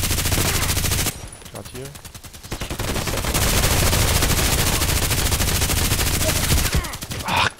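Rapid automatic gunfire in the shooter game Contract Wars, dense bursts of rattling shots filling most of the clip with a brief lull, while a player's voice talks over it.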